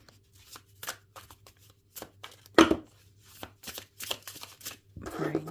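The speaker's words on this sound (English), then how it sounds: "I'm an overhand shuffler." Tarot cards shuffled overhand, giving a series of soft, irregular papery slaps and riffles close to the microphone, with a louder rustle midway and a longer swish at the end.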